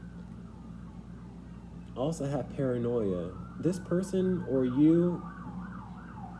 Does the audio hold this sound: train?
no